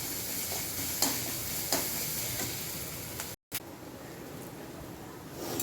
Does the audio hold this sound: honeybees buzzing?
no